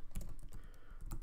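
Keys clack on a computer keyboard as a folder name is typed, a quick run of close, crisp taps with a short pause before a final burst.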